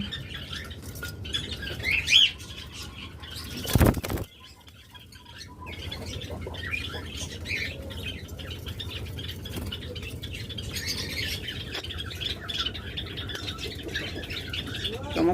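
A pair of yellow collar lovebirds in a busy caged-bird shop, giving faint scattered chirps and squawks over a steady hum of background birds, with a loud rustling clatter near the start.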